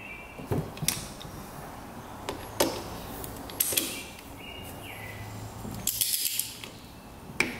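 A ratchet tightens cylinder nuts on a rare 2-stroke race quad in a crisscross pattern, giving several short, sharp clicking bursts spaced a second or so apart over a quiet workshop background, close to the microphone, with no talk.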